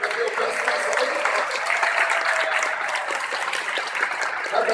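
Steady applause for a diploma recipient at a ceremony in a legislative assembly, a dense, even wash of many hands clapping with murmuring voices mixed in.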